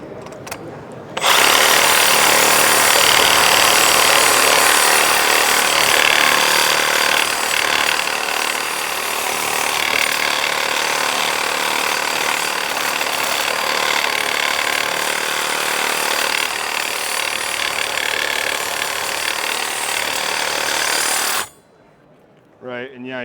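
A power saw blade grinds steadily through a hardened trailer lock, a loud continuous rasping whine lasting about twenty seconds before it suddenly cuts off, with brief talk afterward.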